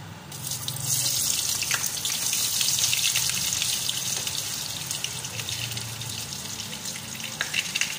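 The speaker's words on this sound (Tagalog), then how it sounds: "Ilagyan ko na ng oil kasi ipiprito muna natin yung atin pong meatballs, chicken balls." Chicken meatballs fry in hot oil with a steady, close hiss and crackle that rises after the first second and carries on with small pops, no one talking.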